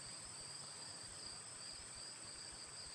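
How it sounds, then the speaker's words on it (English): Crickets chirp steadily in a meadow, a faint continuous high-pitched trill that holds evenly throughout with no pauses and no talking. "I don't know if you can hear the crickets."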